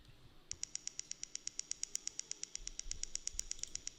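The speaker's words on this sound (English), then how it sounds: "Now I have two different hi-hats which are grouped or layered" A crisp layered hi-hat sample ticks in a fast, steady techno rhythm of evenly spaced bright hits, with a low thump entering partway through.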